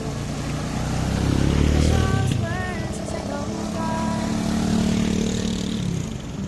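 A motorized tricycle passes along a flooded road in Tumalalud, Mambusao, Capiz, its small engine droning louder and then fading, with voices talking and a brief chirp over the rumble.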